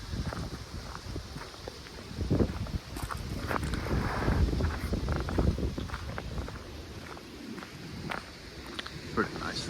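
Wind gusts buffet the microphone on a wooded hiking trail, rumbling unevenly and fairly loud, with footsteps crunching underneath.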